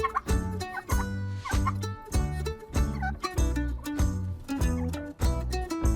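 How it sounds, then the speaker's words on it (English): Three farm turkeys gobbling, repeated warbling calls that come in a quick rhythmic series throughout, close and loud over backing music. "I see 3 turkeys."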